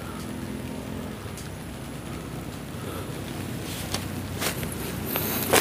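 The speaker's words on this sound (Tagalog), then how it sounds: "Umuulan na guys." Steady rain falls outdoors, a constant close hiss of drops with no speech over it.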